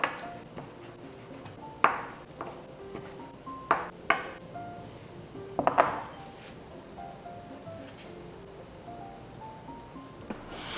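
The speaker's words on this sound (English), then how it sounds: "I'm just going to cut it into small pieces." A knife chops turkey kielbasa into small pieces on a cutting board with a handful of sharp, irregular knocks spaced a second or two apart, fairly close and otherwise quiet.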